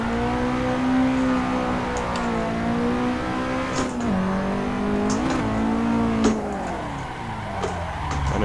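Nissan 180SX drift car engine in Assetto Corsa, a sustained droning engine note that rises and falls with throttle through slides, with no talk over it.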